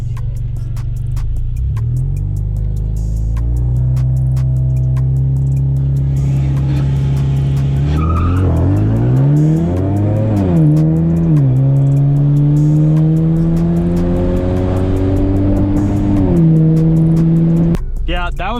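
A car with traction control switched off launches off the foot brake and accelerates hard, its engine revving loud and close, climbing through the revs with a few shift-like drops, with voices at times.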